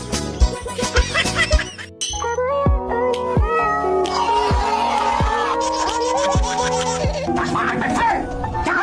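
A cat meows several times up close, with sharp clucks and chirps mixed in, over a constant bed of background music.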